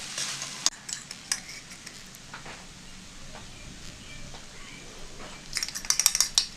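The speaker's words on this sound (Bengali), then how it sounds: "কাঁচা লঙ্কা দিয়ে দিলাম নেড়ে নিচ্ছি" Banana flower curry with green chillies is stirred in a pan, a soft sizzle under repeated metallic scrapes and clinks of the spoon that grow busier toward the end, close and without talk.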